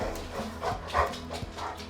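A dog whining and whimpering impatiently near dinner time, several short rising whines in a row at moderate level over faint room noise.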